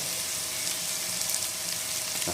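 Ginger, garlic and green chili paste fries with onions in a pan for Bengali katla fish kalia, giving a close, steady hissing sizzle with a faint scrape or clink near the end.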